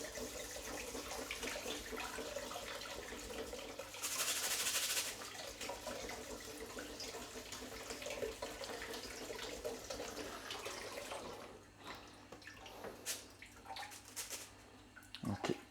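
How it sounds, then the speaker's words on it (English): Rice is rinsed in a sieve under a running kitchen tap, giving a steady gush of water with a brief louder splash burst, then quieter trickles and drips toward the end. "What I do is put it in a sieve. Run it under the tap for a little bit."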